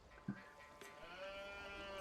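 A sheep in a video game gives a brief bleat in a snow biome, faint under steady game music and ambient tones.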